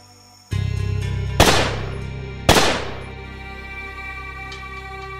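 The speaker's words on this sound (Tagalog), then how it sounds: "Walang kaabog-abog ay ikinasa ni Paolo ang baril sa kabinaril si Ada" Two loud gunshot sound effects in a horror story, each a sharp blast with a reverberant decay, fired about a second apart over a sustained ominous drone.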